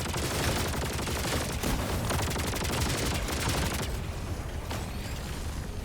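An enemy bot in the Helldivers video game fires rockets repeatedly, a dense, loud barrage of rapid blasts and crackling impacts that fades into quieter distant booms.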